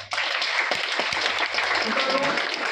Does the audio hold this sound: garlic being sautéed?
no